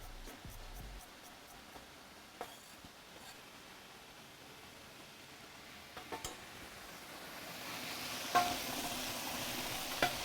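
A soup pot of coconut carrot ginger soup gives off a low, steady sizzle on the stove that grows slightly louder toward the end, with a few faint clicks and taps.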